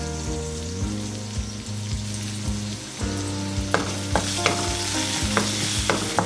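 Finely chopped garlic and small shallots sizzle steadily in hot oil in a pan for oat soup, with a spoon scraping and stirring in periodic strokes close by, and no voices.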